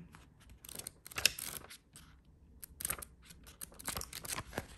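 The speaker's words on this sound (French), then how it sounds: "le coffret s'ouvre comme ceci" An oracle card box being opened by hand, with close, crisp scraping and rustling of card and packaging in several short bursts, the loudest snapping sharply, then quieter shuffling.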